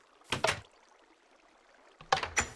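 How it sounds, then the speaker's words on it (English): Minecraft Bedrock door opened by a button press, giving two short clicky wooden clacks about two seconds apart against a quiet background, with no talking. "this button here will open up that door."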